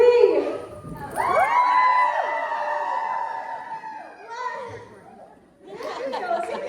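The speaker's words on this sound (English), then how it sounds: "I need you guys to cheer like, ooh, and like shake your body" A conference audience at the Lash Boss Summit in Austin, Texas cheers and whoops with high sustained voices, rising in a loud burst, then dipping and swelling again, with crowd chatter mixed in.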